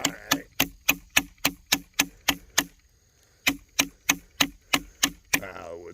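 Artisan Cutlery Tradition bronze D2 knife chopping wood in hard testing: a fast, even run of sharp, loud whacks, a short pause, then another steady burst of blows, fairly close.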